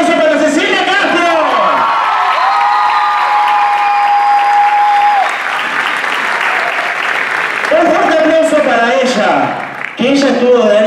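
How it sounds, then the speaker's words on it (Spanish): Loud audience applause and cheering fill a dance showcase, sustained and dense with occasional whoops, while an amplified voice carries over it throughout. "Bien, un fuerte aplauso."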